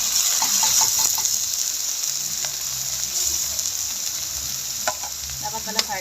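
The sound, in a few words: sautéing upo gourd with sardines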